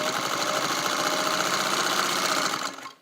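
A fully restored Singer 301A sewing machine runs at full speed, a steady rapid mechanical whir and clatter, close and loud, stopping abruptly at the end with no talk.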